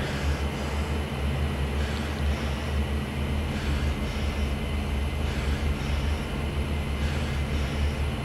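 Aircraft engines in a flight combat video game hold a steady, droning rumble with a rhythmic pulsing whine repeating every second or so, continuous and fairly loud throughout.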